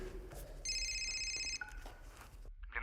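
A mobile phone rings with a brief electronic ringtone that sounds for about a second and then stops, quiet amid a low background.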